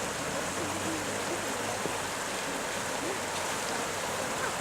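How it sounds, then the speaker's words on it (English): A small creek runs beside an old mill, giving a steady, close wash of flowing water that fills the whole stretch with even rushing noise and no break. "It's like a mill of some sorts, with a nice little creek flowing alongside it."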